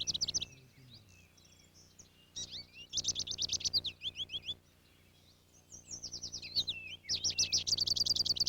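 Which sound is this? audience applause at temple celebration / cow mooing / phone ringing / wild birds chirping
wild birds chirping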